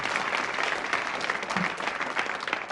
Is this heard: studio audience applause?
yes